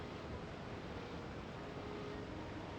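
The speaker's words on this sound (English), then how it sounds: "Doctor, we can generate even bigger waves this way." A wave generator in Pokemon XD produces a constant, dense wash of surging water, steady and fairly loud from start to finish with no voices.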